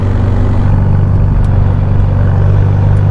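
A black Novitec Ferrari F8 N-Largo driving outside the city, its engine and exhaust a steady low droning hum under road noise, continuous and moderately loud.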